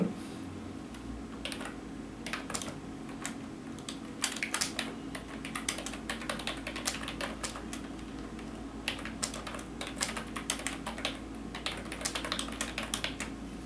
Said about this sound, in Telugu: నేను ఒక మ్యాటర్ టైప్ చేస్తున్నాను